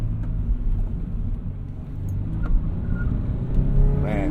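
A Toyota 86 engine rumbles low and close inside the cabin as the car downshifts, with a brief rev rising near the end.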